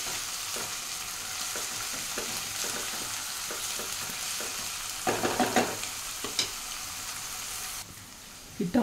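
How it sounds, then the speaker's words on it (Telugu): Onion with ginger garlic paste sizzling in a pan for a rajma curry, a continuous close frying hiss broken by scraping stirs and a few louder clanks of the spoon against the pan. "ఆనియన్, అల్లం వెల్లుల్లి పేస్ట్ వేసుకుందాం."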